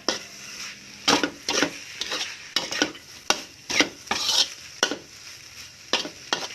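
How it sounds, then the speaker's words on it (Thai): Fried rice with tamarind chili paste being tossed in a pan, rhythmic scraping strokes of a utensil about once or twice a second over a light sizzle, close and fairly loud, without talk. "คลุกเคล้าให้เข้ากันค่ะ"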